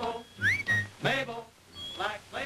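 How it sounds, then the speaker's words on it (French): A man whistles for a woman in a Carling Black Label beer commercial, a short rising wolf-whistle style pair of notes followed by further whistled phrases, clear and close. "siffler une meuf pour qu'elle vous apporte une bière"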